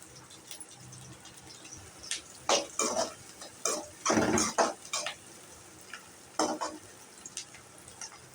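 Shallots and green chillies go into a pan of frying fennel seeds, giving a soft background sizzle with a series of irregular clinks, scrapes and stirring bursts, moderately close and fairly quiet.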